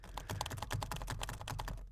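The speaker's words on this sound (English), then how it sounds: "I went really, really aggressive with the typing there." Someone types fast and hard on a computer keyboard, giving a dense, rapid clatter of key presses that runs nearly unbroken until a short pause at the end.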